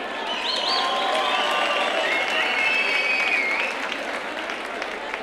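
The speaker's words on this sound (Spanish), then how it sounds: "Un aplauso aquí a este chiquillo" Steady audience applause at an outdoor stage concert in Santander, a dense wash of clapping that holds throughout, with a few whistles and cheers rising over it.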